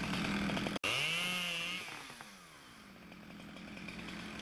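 A chainsaw revs loudly cutting chestnut wood, its pitch dropping and wavering as it bogs down in the cut, then settles into a lower idle drone.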